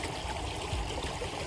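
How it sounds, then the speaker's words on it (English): A waterfall in the Brecon Beacons rushes with steady broadband splashing and a low rumble, continuous and fairly close, with no voices. "So I'm gonna make the most of this waterfall and brave a dip."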